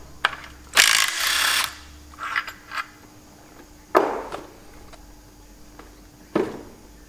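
Metal parts being knocked and rattled loose while dismantling the gearbox of a Chamberlain tractor to remove the selector rails, giving several sharp clanks and a longer scraping rattle spread across the clip, close and fairly loud.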